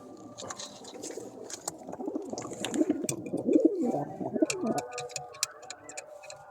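Several pigeons coo in a loft of cobra-breed birds, low rolling calls overlapping near and loud, with scattered sharp clicks and flutters above them.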